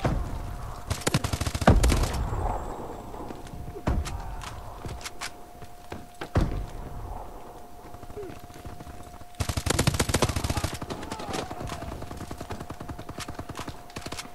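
Bal-27 assault rifle fire in Call of Duty Advanced Warfare: rapid automatic bursts at a steady cadence, a loud one near the start and a longer sustained burst later, with quieter game ambience and scattered shots between.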